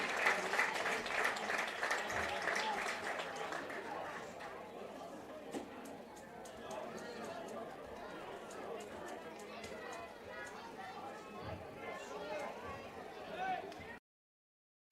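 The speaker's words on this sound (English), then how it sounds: "Let's give all of these candidates and royalty a big round of applause." A crowd at a varsity football game gives a long round of applause for homecoming candidates and royalty, loud at first and then settling into a steady wash of clapping with chatter, cutting off abruptly near the end.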